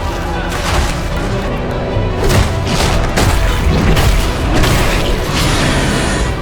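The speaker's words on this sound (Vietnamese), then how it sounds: "Tiếng súng phản kháng và tiếng giận dữ vang lên cùng lúc." Gunfire in the Korean drama Gyeongseong Creature, episode 5: loud, dense booms and crashes pounding in quick succession under a heavy, continuous wash of noise, with voices mixed in.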